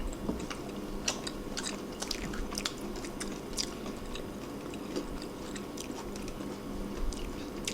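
Crunchy fried sweet and sour beef tangsuyuk is bitten and chewed in sharp, irregular crunches close to the mouth, fairly quiet, with no talk.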